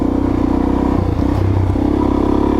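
A Suzuki DRZ 400S dual sport motorcycle rumbles steadily at close range in woods near Driggs, Idaho, its single-cylinder engine idling loud and continuous with a slight dip in pitch midway and some faint clatter.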